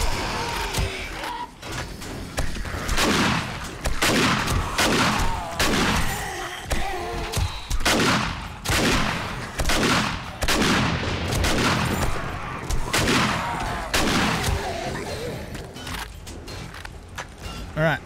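Repeated shotgun blasts on a zombie horde night in 7 Days to Die, loud sharp shots in an uneven rhythm, with mechanical clanks and thuds between them.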